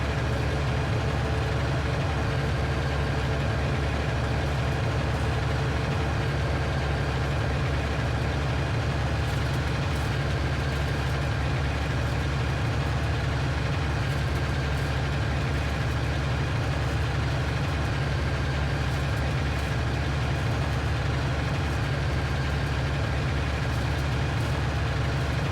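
Steady, droning engine hum of a large tractor with front and side mowers in Farming Simulator 19, a continuous low rumble at constant level with no talking.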